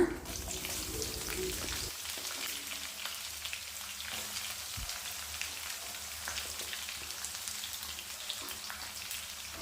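Chopped onions frying with chana dal in hot oil for a shavige upma, making a steady, close crackling sizzle that continues throughout like light rain, with no voices.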